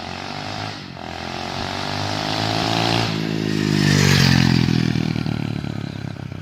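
A 125cc mini bike makes a high-speed pass at wide open throttle, its loud buzzing engine note climbing in pitch and volume as it nears and then easing off as it goes by, with no talk.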